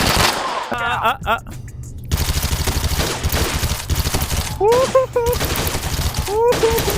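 Rapid automatic gunfire rattles in bursts in a VR shooter game, loud and close, broken by short gaps, with voices talking over parts of the shooting.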